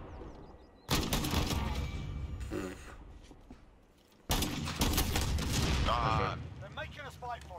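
Full-auto gunfire in a Modern Warfare gunfight match: two long, dense bursts of rapid shots, fairly close and loud, with brief talk and clicks between them.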